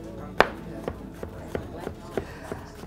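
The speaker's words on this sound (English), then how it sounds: "I think I'm done chopping" A knife chops cucumber steadily on a cutting board, about seven crisp knocks at an even pace with faint background noise between strikes.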